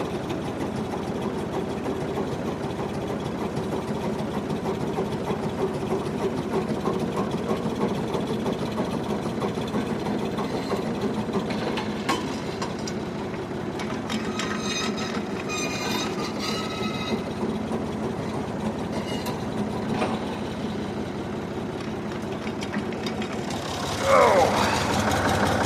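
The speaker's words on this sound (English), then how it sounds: "this is dead idle, just to show it don't take no power to run one of these." Ford 3000 tractor at dead idle with a post hole digger attached, its diesel engine chugging in a steady, continuous low rumble nearby, with light clanking partway through and a slight surge at the end.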